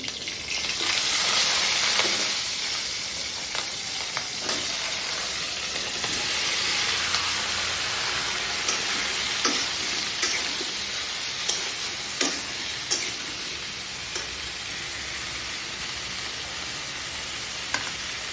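Ridge gourd and green chilies fry in a pan of hot oil, giving a continuous close sizzle and hiss with occasional clinks and scrapes of stirring.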